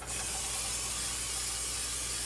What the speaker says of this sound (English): This is an oil sprayer, so you put regular canola or olive oil in it.